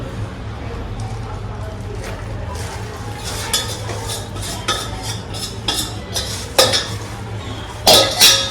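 Besan flour is stirred in a hot pan for traditional besan ladoo, with a spoon scraping and clinking against the metal in irregular strokes over a low background hum, the knocks growing louder toward the end.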